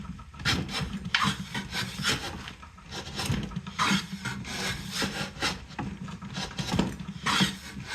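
A hand plane with a freshly honed blade shaves wood in repeated rasping strokes, each pass a loud, close scrape with brief pauses between, cutting aggressively.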